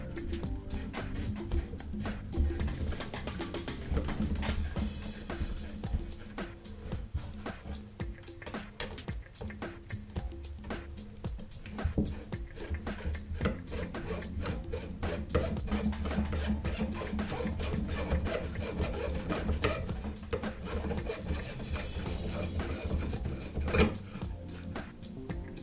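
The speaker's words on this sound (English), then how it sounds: "gripping the pressure tube, we should be able to turn and unthread it" A ratchety mechanical ticking and rattling runs close and steady as the pressure tube of an Evanix Air Speed air rifle is unthreaded by hand, with no talk heard.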